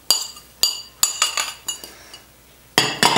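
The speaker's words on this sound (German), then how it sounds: "Das Ganze wird schön gemischt." Eggplant salad with chives, dill and herbs being mixed in a bowl: a series of sharp, close utensil clinks against the dish at an uneven pace, about eight strikes, ending in a quick double clink.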